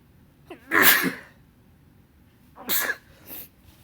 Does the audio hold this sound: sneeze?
yes